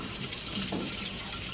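Tap water runs steadily from a faucet into a sink during handwashing, a soft continuous hiss close by with no talking over it.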